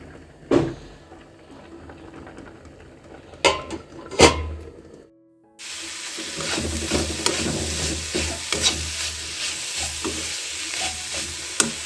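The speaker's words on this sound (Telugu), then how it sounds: "ఇటు పక్క చారు తాలింపు అయితే పెట్టాను." Tempering for rasam (charu) hits a hot pan and breaks into a loud, dense, continuous sizzle after some quiet kitchen clinks and taps.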